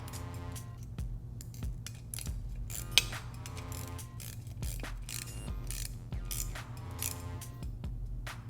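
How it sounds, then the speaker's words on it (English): A 4mm Allen key and a 10mm box wrench tighten a countersunk screw on a fender eliminator for a Kawasaki Z125, giving rapid ratcheting clicks and metallic taps over a low steady hum, close up. "I'm going to use a 4mm Allen on the countersunk screw, and then 10mm box wrench"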